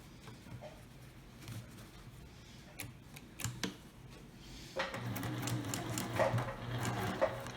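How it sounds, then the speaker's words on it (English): Sewing machine stitching the sides of a fabric ring bag: soft clicks and taps at first, then a steadier close-up mechanical whir of stitching in the second half, with no talking. "Back stitch, and we are done sewing both sides"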